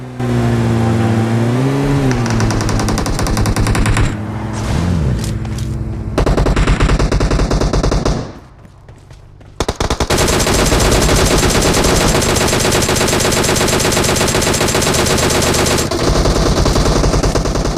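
Automatic gunfire sprays in a battle royale shooter during a squad fight, with loud sustained bursts of rapid shots, a brief lull near the middle, then a long unbroken volley continuing to the end alongside engine-like game noise.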